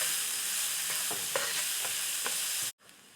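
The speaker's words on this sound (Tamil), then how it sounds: "இப்போ அதே பேன்ல கொஞ்சமா எண்ணெய் சேர்த்து 1 டேபிள் ஸ்பூன் சீரகம், பொடியா நறுக்கி வச்சிருக்கிற 1 கப் வெங்காயத்தை சேர்த்து நல்லா வதக்கிக்கிறலாம்." Onions and cumin seeds fry in a little oil in a pan for an egg gravy, a steady close sizzle with a few soft stirring scrapes, cutting off abruptly near the end.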